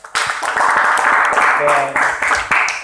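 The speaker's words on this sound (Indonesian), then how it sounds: "Tepuk tangan untuk temanmu." A classroom group claps for a classmate, a dense, steady burst of many hands that starts abruptly and carries on loud throughout, with a few voices briefly audible underneath.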